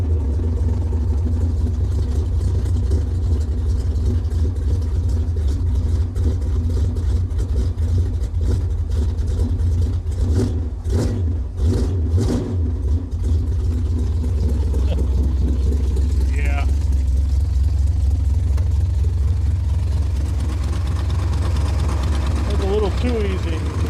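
An old car engine turns over and settles into a steady, rough idle, a low continuous rumble with a few sharp cranking bursts in the middle, as people talk nearby.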